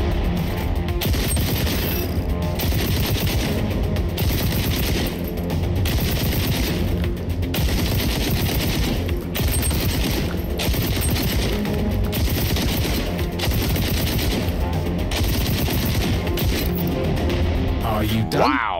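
Sustained automatic gunfire from one magazine emptied at targets in the video game XDefiant, dense rapid bursts running loud and near almost without pause, with game effects layered underneath.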